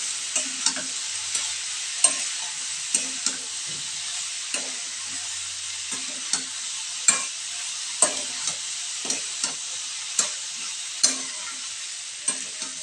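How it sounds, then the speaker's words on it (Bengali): Water spinach stalks fry in a pan, a steady bright sizzle broken by regular scraping strokes of a spatula stirring them, close and clear, with no talking. "পাঁচ মিনিট মতো নাড়তে থাকবো।"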